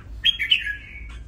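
A young red-whiskered bulbul in a cage gives a short, sharp run of harsh squawking call notes, fairly close and clear over a low background rumble.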